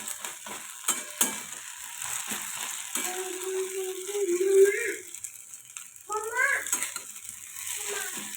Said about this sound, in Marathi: मस्त असं आपण साबुदाणा परतून घेऊया.